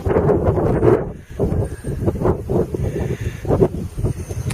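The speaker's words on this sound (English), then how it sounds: "it's so windy you can't believe it." Strong wind gusting outdoors on a warm day, buffeting the microphone with loud, uneven rumbling surges and rustling that rise and fall continuously.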